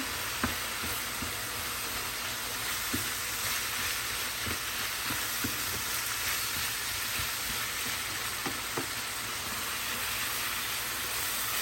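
Meat frying in a pan with tomato salsa added gives a soft, steady sizzle and hiss, with scattered small pops and taps throughout, no voices.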